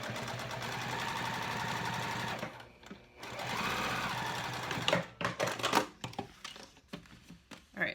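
A sewing machine runs in steady, rapid stitching bursts along a zipper layered between fabric, pausing briefly, then stops and starts in short spurts near the end.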